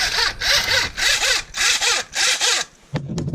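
A recoil starter rope on a vintage Ski-Doo Rotax snowmobile engine is pulled out and let back in five times in a steady rhythm. Each pull gives a loud ratcheting zip, and a few short clicks follow.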